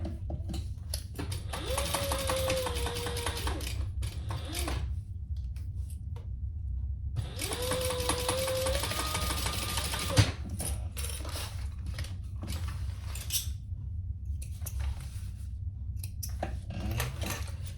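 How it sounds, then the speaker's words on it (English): A sewing machine bastes fabric for a sling at a quarter-inch seam in two runs of fast, whirring stitching with a rising motor tone, then stops for quieter handling and fabric rustle, close and with no speech. "So I am going to baste this in place, and then I'll add the lining."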